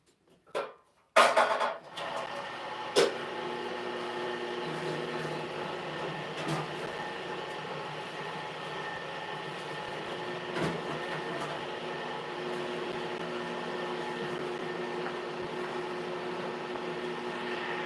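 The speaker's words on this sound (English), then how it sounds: "there goes the trusty bandsaw" A bandsaw in a metal shop starts with a few thuds and clanks, then settles into a steady, droning mechanical whine with a faint high ring that runs evenly until the end.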